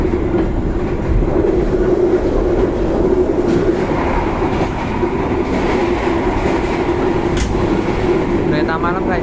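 An economy-class night train runs at speed near Delanggu station, with a steady rumbling roar and rail clatter throughout and faint voices beneath.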